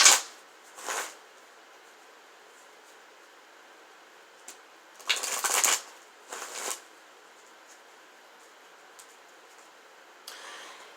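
Tarot-style advice cards are shuffled in a quiet room, with a few soft, brief riffling bursts separated by near silence and no talking.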